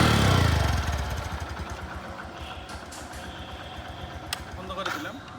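A 2022 Bajaj Discover 110cc motorcycle engine runs close by, starting with a loud rev that settles into a steady idle putter, while someone talks over it.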